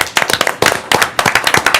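Clapping in a city commission meeting for the newly contracted permanent superintendent, a small group of hands giving quick, irregular bursts of claps, close and distinct, pausing briefly between flurries.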